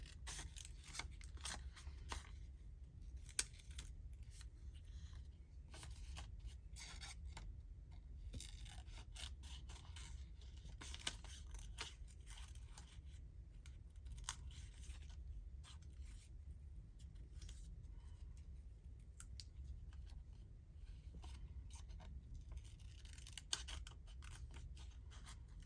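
Scissors snip and slide through paper for an art journal page, a run of soft, irregular cutting clicks and scratches close by, continuing quietly without talk.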